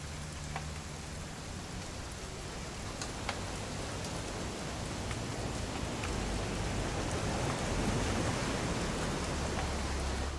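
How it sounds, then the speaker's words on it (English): Steady rain in the video game What Remains of Edith Finch, a dense broadband hiss of drops on surfaces with a few sharper patters, continuous and fairly close, swelling slightly louder toward the end, with no talk. "It's gonna rain the whole weekend, isn't it?"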